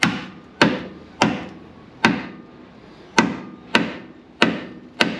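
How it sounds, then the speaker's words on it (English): Eight sharp, heavy blows from a big hammer ring out at a steady, deliberate pace about every two-thirds of a second. Each strike is close and loud, and each decays briefly before the next. "Hit things really hard. That's my biggest hammer."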